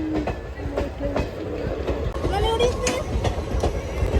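A train rolls past on a nearby railway track, its wheels beating a loud, rhythmic clickety-clack close by, with voices faintly underneath.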